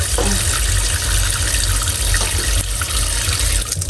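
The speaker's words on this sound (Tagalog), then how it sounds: "At yan po yung ating hugasan sa tubig." Boiled leaves, freshly cooked and drained, are rinsed in water in a kitchen: a continuous loud wash of running and splashing water, close by, with no talking.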